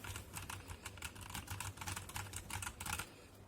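Fast, steady typing on a METOO Z56 mechanical keyboard with brown switches, a dense run of soft, close clacks that thins out near the end, with no voices.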